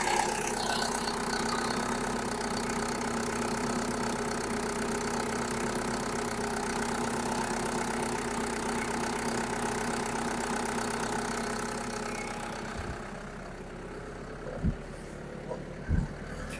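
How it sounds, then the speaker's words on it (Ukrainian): A Mitsui generator engine idles with a steady, close mid-pitched drone and faint knocking texture, running from a fuel canister; the hum eases slightly near the end, where a few soft knocks break through. "Двигун працює тихенько, класно."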